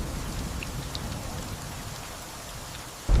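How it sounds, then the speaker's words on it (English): Heavy rain pours down in torrents, a dense continuous hiss of drops striking the ground, loud and unbroken, with a sudden low rumble at the very end. "The rain begins, falling in torrents, lashing against the hardened earth."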